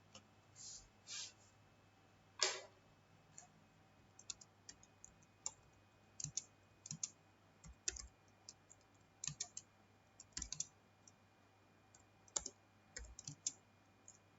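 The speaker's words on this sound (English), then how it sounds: "So we'll open it and now we'll type the program." Notepad text being typed on a computer keyboard, quiet close-up keystrokes in irregular bursts and short runs with pauses, plus an occasional louder key or click.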